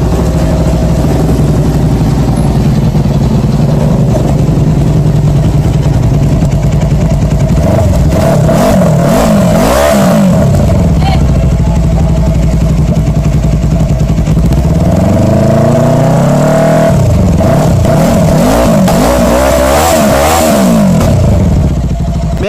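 A 400cc sport motorcycle idles loudly up close, then its engine is revved in two bursts, each rising sharply and falling back to a steady idle.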